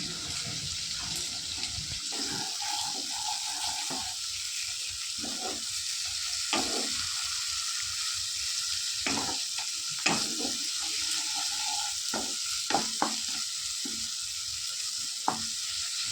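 Spice paste frying and sizzling in a pan with a little water for a Bengali-style mackerel fish curry, a steady crackling hiss broken by repeated stirring scrapes, close and continuous with no talking.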